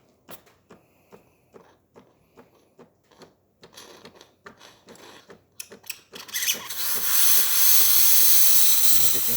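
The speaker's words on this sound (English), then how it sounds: "it's a nice powerful steam" Steady loud hissing of a DeLonghi espresso machine steam wand bursts on after a series of clicks and knocks, then roars continuously and close.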